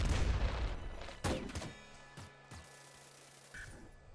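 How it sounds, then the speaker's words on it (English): A cluster bomb launcher firing in the roguelike game Nuclear Throne, a burst of crackling explosions followed by several sharp individual blasts that trail off. "It seems like a sort of cluster bomb launcher."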